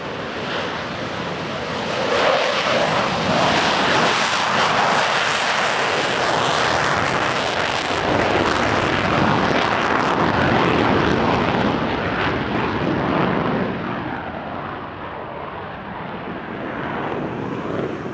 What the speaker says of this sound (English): There goes an F-model Super Hornet of VFA 122, the US Navy's primary Super Hornet training squadron